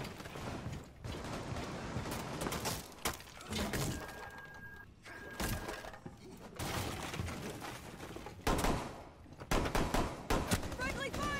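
Gunshots from a teammate in Rainbow Six Siege ring out in loud, sharp bursts and scattered single shots through the whole stretch, with game clatter and brief voices mixed in.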